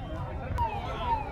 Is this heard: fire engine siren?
yes